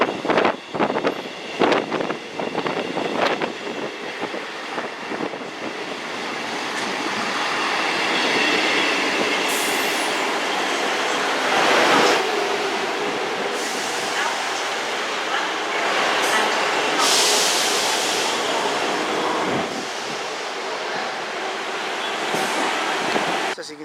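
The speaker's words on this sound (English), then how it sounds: "a Class 158 East Midlands train service to Liverpool Lime Street from Norwich" A Class 158 East Midlands diesel train rumbles through Chesterfield station, engine drone rising and holding steady with some clatter and a brief squeal as it passes close by.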